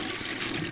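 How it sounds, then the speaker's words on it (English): A toilet flushes in the horror video game Death Flush, a steady, loud rush of swirling water that runs through the whole moment with no voices over it. "Let's flush and get out of here."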